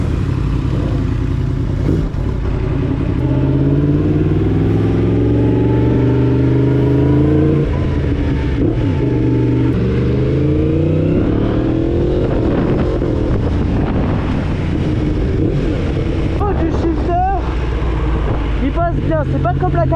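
A Yamaha MT-10 motorcycle on a test ride gives a steady, close engine drone with rising revs and shifting pitch throughout, under wind rush and a few faint clattering bits.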